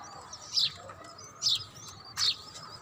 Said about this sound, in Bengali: কবুতরও খাবার খাচ্ছে, বাচ্চা আছে। এদিকে কবুতর খাবার খাচ্ছে।